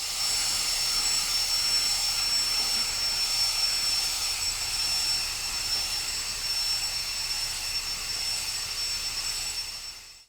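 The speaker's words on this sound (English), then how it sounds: "the blower had a much tougher time in this scenario, but still managed to completely clear the area of leaves" A lightweight WORX WG543E 20V cordless leaf blower clears leaves outdoors with a steady, loud, high-pitched fan whine and airy rush that holds constant, then fades at the end.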